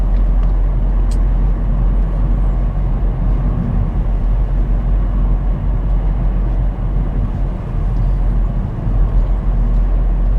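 A car drives steadily along a town street during a driving-test route in Taurage, Lithuania, its engine and road rumble loud and continuous throughout; no distinct gear change stands out.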